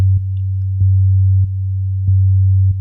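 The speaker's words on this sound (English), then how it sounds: "so the amplitude is modulating aligned with the LFO" A steady synthesizer oscillator tone whose level rises and falls in a slow, even pulse from an LFO, with soft clicks at each change and nothing else heard.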